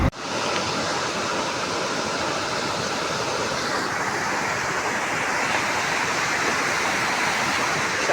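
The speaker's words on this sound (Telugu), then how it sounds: "ప్రవాహం అనేది గంటకు పెరుగుతూ ఉన్నది" A swollen stream pours hard across a road between villages, a loud, unbroken rush of water that stays close and constant throughout, with no voices over it.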